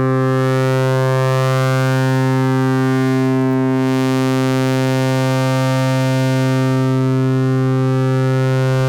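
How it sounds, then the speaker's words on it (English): A New Mexico Control Voltage Wavesplice synthesizer module sweeps through its waveforms, giving a loud, continuous, harmonically rich buzzing drone whose timbre slowly shifts, like a steady siren-like tone. "As I sweep through the different waveforms, we'll start getting some different sounds."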